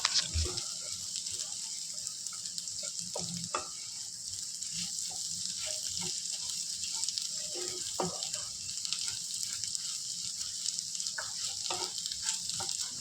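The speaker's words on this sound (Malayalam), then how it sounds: "ഇനി മസാലകളെല്ലാം ചെമ്മീനിലേക്ക് നന്നായിട്ട് പിടിക്കുന്ന രീതിയിൽ നന്നായിട്ട് ഇളക്കിയെടുക്കണം കേട്ടോ" Prawns are stirred in masala in a pan, with a continuous close sizzle of frying and scattered scraping knocks from the spoon throughout, and no talk.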